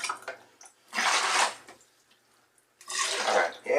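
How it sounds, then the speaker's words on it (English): Running water rinses out a Kool-Aid container in two strong gushing bursts split by a quiet pause, close and loud, with faint handling sounds between them. "we can kind of just rinse this out"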